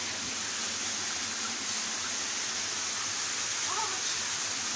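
The Beușnița waterfall, a dense, steady rushing hiss of falling water, loud and close, holding evenly throughout with faint voices briefly audible beneath it.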